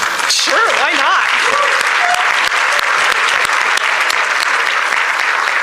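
An audience at a community talk on Florida history breaks into loud, sustained applause that fills the room, with a brief voice rising above it early on.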